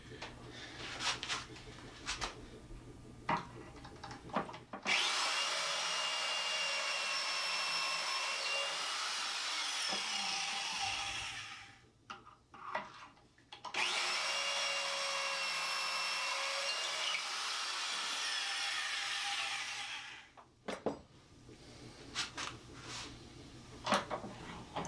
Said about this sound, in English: go in there with a power driver, knock in some Kreg screws, it'll hold it in place